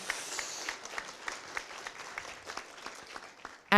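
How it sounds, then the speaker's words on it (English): Audience applause at a conference closing, a room full of people clapping steadily at moderate volume, with a faint voice cutting in at the very end. "You can applaud to that."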